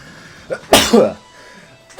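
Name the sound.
sneeze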